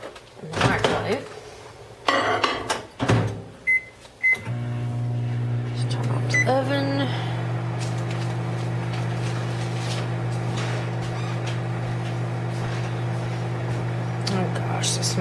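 A microwave oven melts a couple of tablespoons of butter for sausage cornbread, starting with door clunks and button beeps, then settling into a steady, loud electric hum that runs on alone to the end, with a brief spoken line near the start.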